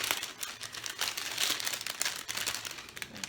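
Close, continuous crinkling of a thin plastic bag, rustling and crackling in quick irregular bursts with no talking.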